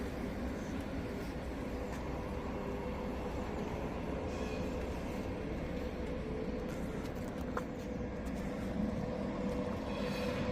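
A tram rolls through Sheffield city centre, a steady low rumble of wheels on rail filling the whole stretch with faint metallic squeals and street ambience around it.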